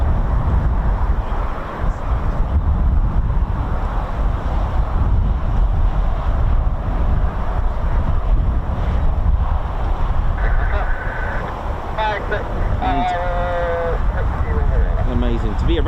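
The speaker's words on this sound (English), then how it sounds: "it's windy here" Strong, steady wind roaring across the microphone throughout at RAF Waddington during a Red Arrows aerobatic display, with faint high whistling tones rising near the end.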